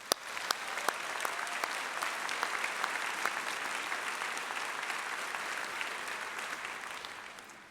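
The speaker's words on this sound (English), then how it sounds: "join me in a round of applause for them" Audience at a 2015 high school graduation ceremony gives a sustained round of applause, loud and dense, with a few sharp individual claps near the start and a gentle fade at the end.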